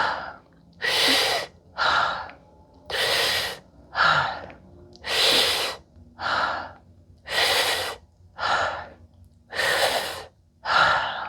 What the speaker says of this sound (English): Squat deep and breathe 6 times.